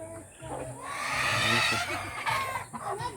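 Chickens cluck and squawk nearby in a busy, overlapping chorus, with other farmyard noise mixed in.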